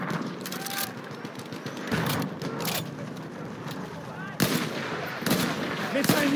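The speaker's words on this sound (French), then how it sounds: "Présence d'une mitrailleuse." Machine-gun fire in the video game Battlefield 1 comes as rapid cracking bursts over a dense battlefield din, with short stuttering volleys recurring throughout and voices heard in the mix.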